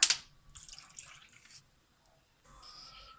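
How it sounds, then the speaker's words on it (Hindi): A spoonful of vinegar is poured into a pot of fish soup, a faint close liquid trickle and splash in two short bursts with quiet gaps. "इसमें मैं अब डालूंगी 1 चम्मच के बराबर सिरका"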